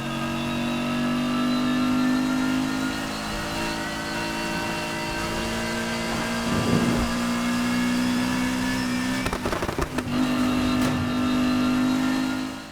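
A BMW M4 fitted with straight-cut gears in Need for Speed Heat gives a loud, steady engine drone that holds high revs, with brief shift breaks near the end before the tone returns.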